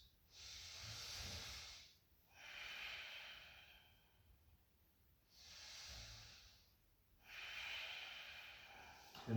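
Slow, deep breaths during a gentle yoga flow, four long airy inhales and exhales in a steady rhythm, close and soft with quiet pauses between them.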